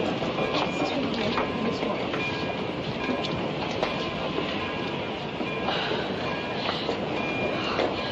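The Sunset Limited passenger train rolls in at a station, a steady loud rumble of wheels on rails with rhythmic clickety-clack beats and faint metallic squeals throughout.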